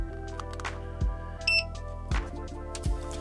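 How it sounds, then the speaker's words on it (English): A van's power inverter switching on gives a short, high electronic beep once over a steady low electrical hum, with a few soft clicks nearby. "you heard that beep? That means it's producing some AC power."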